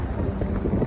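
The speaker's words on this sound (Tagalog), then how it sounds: "Malakas ang pwersa ng hangin natin." Strong wind buffets the microphone outdoors at a wedding, a dense, steady rumble with low gusty thumps filling the whole moment.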